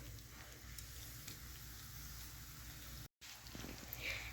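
Mexican buñuelos fry in hot oil, a steady soft sizzle and crackle that runs throughout at low volume, broken by one brief dropout near the end.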